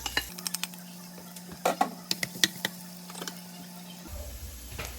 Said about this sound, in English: On the same pan, we're going to heat an oil. Saute the garlic.